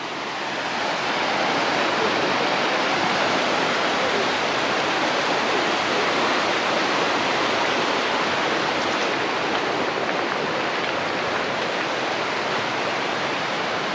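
A mountain river rushes right beside a bathhouse in the hills near Almaty, a steady, loud, dense roar of flowing water with no breaks, close by and alone without voices.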